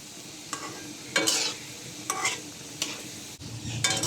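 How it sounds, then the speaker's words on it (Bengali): Spicy potato balls deep-fry in hot oil with a steady close sizzle, broken by several sharp bursts of stirring and bubbling. "এখন ঝাল লাড্ডু অথবা বলগুলি ছেড়ে দিব এখন এগুলিকে গোল্ডেন কালার হওয়া পর্যন্ত ভেজে নিতে হবে"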